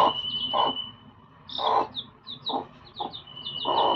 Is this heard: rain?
no